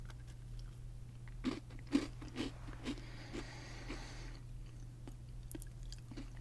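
Close, quiet crunching and chewing of a chocolate-coated butter cookie, a series of sharp bites around the middle followed by softer mastication, with no talking.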